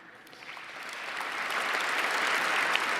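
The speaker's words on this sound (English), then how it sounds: "He waited for applause, and it took us way too long for that applause to come in" Applause from an audience at a political campaign speech starts thin and swells into a steady, full round of clapping that holds to the end.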